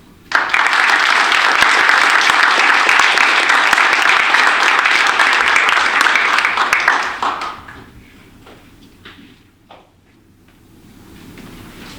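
An audience applauds to welcome a speaker, loud sustained clapping for about seven seconds that fades out into quiet room sounds and small knocks.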